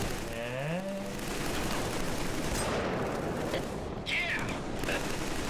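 Rapid gunfire in the video game Killzone 3 rattles as a dense, continuous barrage mixed with other game noise, and a voice briefly speaks over it.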